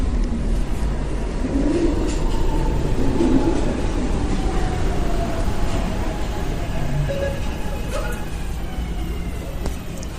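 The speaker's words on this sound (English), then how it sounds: "Oh, there's a train." A train rumbles steadily past up close, with rolling wheel noise, rattling cars and faint squealing tones running throughout.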